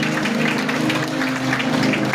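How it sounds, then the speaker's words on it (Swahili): Audience applause at a church gathering, a dense, steady patter of many hands clapping together, close and sustained without a break. "Pigeni makofi mazuri jamani."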